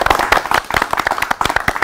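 A small group of people clapping in a quick, uneven rhythm, close and loud, during a lively talk-show conversation about shepherd dogs; no speech over it.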